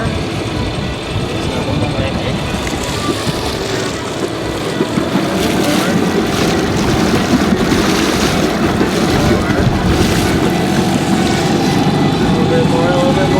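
An 85-horsepower outboard motor on an anchored sailboat revs at high throttle, a loud steady drone with heavy wind buffeting the microphone and water noise around it, holding constant throughout.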